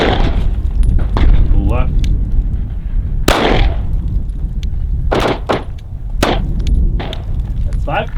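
Five sharp pistol shots are fired at a target during a five-round, untimed shooting drill on a range. The shots are spaced irregularly over several seconds, loud and close, with people talking in between.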